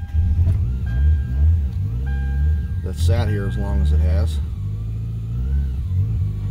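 A 1996 Toyota Camry engine idles roughly with a steady low rumble after sitting unused for six years, then revs briefly as the throttle is feathered, with someone talking over it close by.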